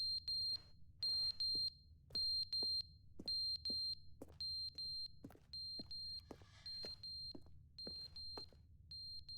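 Repeating electronic alarm beeps in a video game, short high-pitched tones pulsing in a steady rhythm, clear and alone over a low background hum.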